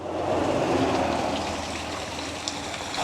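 Water pours steadily from a pipe into a roadside grate near a highway, a continuous close splashing rush with no voices over it.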